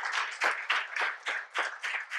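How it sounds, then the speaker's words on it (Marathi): An audience at an interview event in Pune claps together in a brisk, even burst of applause, fairly close and quite short. "जोरदार एकदा स्वतःसाठीच टाळ्या."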